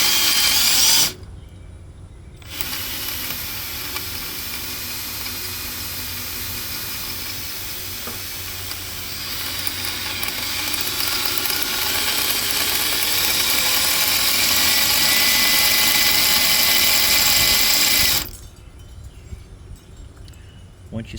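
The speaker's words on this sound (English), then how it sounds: "I like to step the drilling process so you don't stand the chance of breaking off the drill bit" A drill bores steadily into a broken head bolt on a Tecumseh engine, a sustained loud grinding whine running for about sixteen seconds between short pauses, with its pitch and strain rising toward the end.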